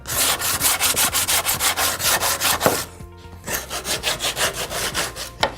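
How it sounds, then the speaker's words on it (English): Pallet wood pieces are rubbed back and forth with a hand sanding block on a workbench, making a close, loud, rhythmic scraping stroke roughly every quarter second, pausing briefly in the middle and then resuming. "if you don't have a belt sander, you can use a sanding block."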